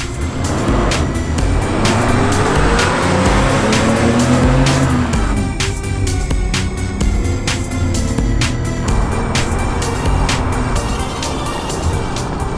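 A 1987 Porsche 944 Turbo engine revs hard and loud up close, pitch climbing steadily with brief dips at gear changes as it accelerates toward 60.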